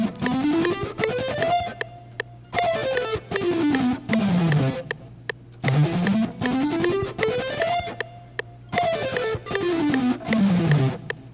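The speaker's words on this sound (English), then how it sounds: "It's a 3-note per string exercise where we have 3 groups of 6 notes played ascending and descending" Electric guitar alternate picking a three-note-per-string exercise, fast even notes that climb and then descend in two repeated runs, with short pauses between them and a driven, slightly distorted tone.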